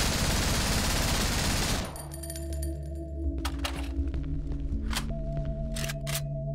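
Video game gunfire from an MP5 and FAMAS G2 in Cry of Fear: a dense, loud rattle of automatic fire gives way to scattered sharp single shots over a low humming backdrop.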